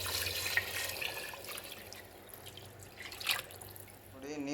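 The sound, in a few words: water poured into pot with rice for biryani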